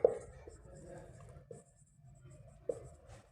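Pen or chalk writing out a math question, soft scratchy strokes with a few sharper taps, quiet and close, heard alone without talk.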